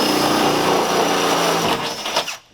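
A power drill bores steadily through an A-frame wall part, a continuous loud high-pitched whine that holds for about two seconds before cutting off abruptly.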